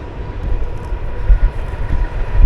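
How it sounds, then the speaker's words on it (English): A low, steady rumble of a distant train rolling along across a river, a continuous heavy drone with slight swells, heard from far off with no voices. "there's a nice train on the other side of the river"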